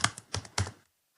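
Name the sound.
typing on a computer keyboard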